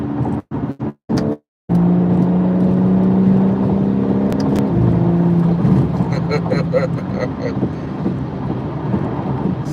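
A powerful car drives along the road, its engine and road noise forming a steady, loud drone from inside the vehicle after a few brief cut-outs at the start.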